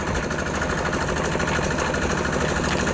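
A homemade Thai tractor engine runs continuously nearby, a loud, rough, steady chugging drone with a rapid knocking rhythm and rattling vibration throughout.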